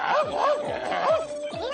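A dog gives a quick run of short yipping barks and whimpers, close and fairly loud, with a voice sounding alongside.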